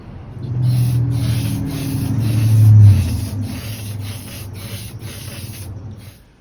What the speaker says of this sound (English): I just fogged it with some spray paint that I had laying around